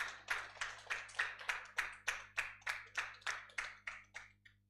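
Audience at a national inter-university constitutional law moot court competition claps in steady rhythmic unison, about a dozen sharp regular beats at close range, fading out at the end.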